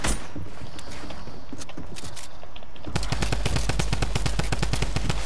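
Sustained automatic gunfire in the video game Fortnite, loud and close, shifting into a faster, harder rhythmic burst of evenly spaced shots partway through, with no talk over it.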